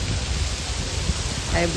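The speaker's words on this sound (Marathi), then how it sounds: "फुल पाऊस आहे" Heavy rain pours down steadily around a vehicle standing in deep water, a dense continuous hiss filling the background at close range.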